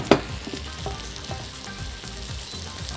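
Olive oil heating hard in a pan for couscous vegetables, giving a steady soft sizzle with a sharp clack near the start and faint stirring knocks throughout.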